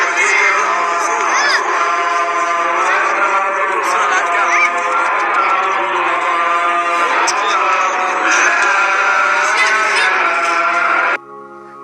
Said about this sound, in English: On Eid, you can hear many takbirat, chants glorifying Allah.